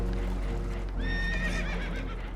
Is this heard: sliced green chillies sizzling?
no